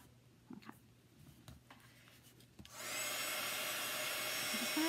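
A hair dryer blows on chalk paste, switching on partway through with a sudden steady broadband whoosh that stays loud and constant after a few quiet handling taps.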